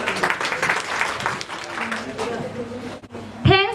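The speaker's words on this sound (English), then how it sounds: "Please clap for her." A debate competition audience applauds as a debater is introduced, a brief spell of scattered clapping mixed with voices and room noise.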